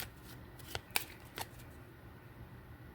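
Cards from a small 36-card deck being shuffled: a few quick, crisp riffling snaps close by against a quiet background, with no talking.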